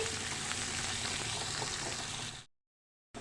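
Curry leaves and turmeric with other ingredients frying in a pan for a potato kurma, a quiet continuous bubbling sizzle that cuts off abruptly into silence near the end.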